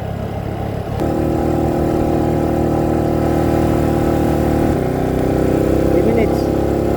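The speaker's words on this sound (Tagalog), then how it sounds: "Ito yung sa tawag na engine brake, mahal, oh." A vehicle descends a mountain road at Skyline Ridge in Malungon on engine braking: a steady, close, low engine drone with a layered harmonic hum that stays unbroken, shifting pitch slightly partway through.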